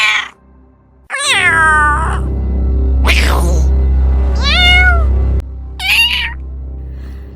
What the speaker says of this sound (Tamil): இது ஒரு கோவமான பூனையோட சத்தம்.